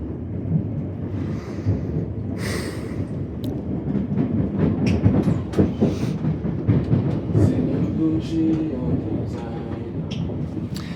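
A Siemens train running on Melbourne's Sunbury line between Southern Cross and Watergardens, heard from inside as a steady rumbling roar with rail clatter throughout and people talking over it.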